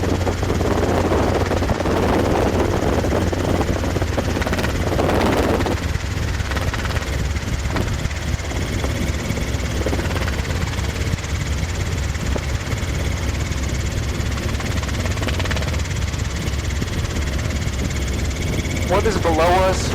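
Robinson R22 training helicopter in flight, a loud continuous rotor and engine drone heard from inside the cabin, with radio and intercom talk over it.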